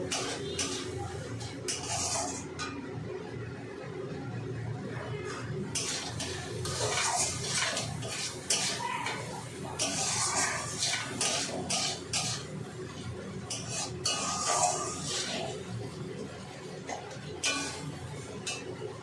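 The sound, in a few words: masala being sautéed and stirred in a pan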